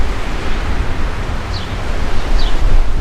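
Steady wind blowing across a vegetable garden with zucchini squash, a continuous broadband rush with low gusty rumble and microphone buffeting, slightly stronger toward the end.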